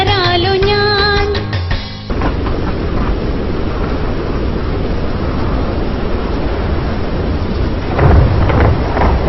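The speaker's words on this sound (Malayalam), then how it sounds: "കാറ്റു വന്നു ഇടിയും വെട്ടി മഴയും പെയ്തല്ലോ" Thunder-and-rain sound effect at a preschool annual day stage show: after a short music phrase, a loud broad rumble and roar of rain and thunder fills the rest, swelling again near the end.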